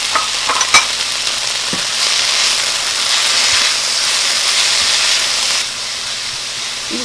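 Kale and mushrooms sizzle steadily in a frying pan, a loud broad hiss with a few sharp clinks and stirring scrapes near the start, continuing without talk before easing slightly at the end.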